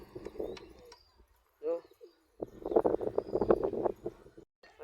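Soft pigeon coos and low bird murmurs nearby, mixed with quiet rustling and a few faint chirps.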